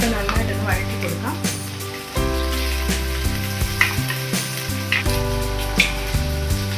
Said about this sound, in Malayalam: ഇത്രയും ചേർത്ത് നമുക്ക് നന്നായിട്ടൊന്ന് വഴറ്റി കൊടുക്കാം.